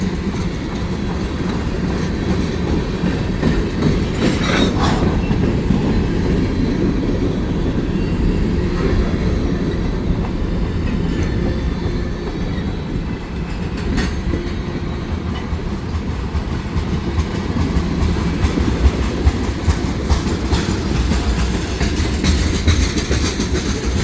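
A freight train rolls steadily past a trackside defect detector, a loud, continuous rumble with clickety-clack of wheels on rail joints and occasional sharper metallic clanks throughout.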